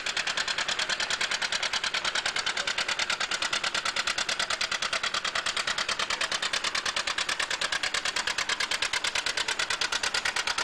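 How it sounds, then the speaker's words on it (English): A John Deere two-cylinder diesel tractor, the last and largest of that line, runs with a steady, rapid, loud pulsing beat that continues evenly throughout with no voices. "this is the last and the biggest John Deere two-cylinder tractor they made"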